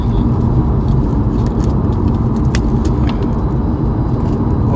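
A car driving on a road near Petit Jean Mountain, heard from inside as a loud, steady drone of engine and tyre noise with no talking.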